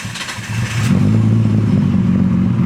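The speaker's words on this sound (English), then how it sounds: "Car should start right up." A Nissan Skyline R32 GT-R with its RB26 engine cranks briefly and then catches, settling into a loud, steady, close idle rumble with no talk.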